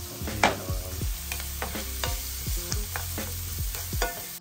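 Onions fry in a pan for seafood paella while being stirred, giving a soft steady sizzle broken by repeated scraping and clinking strokes of the utensil, close and fairly quiet with no voices.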